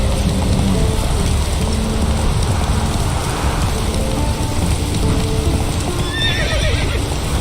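Geralt's horse Roach from The Witcher 3 neighs and trots with clip-clopping hooves, heard close under steady rain, with a whinny near the end.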